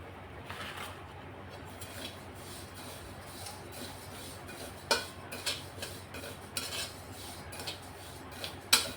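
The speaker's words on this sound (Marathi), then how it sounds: "आता हे दोन तीन मिनिटासाठी भाजून घ्यायचं आहे" Whole spices for Kolhapuri masala dry-roasting in a pan over medium heat, with soft scraping and stirring clinks and a few sharper metallic taps standing out over a low steady background, no talking.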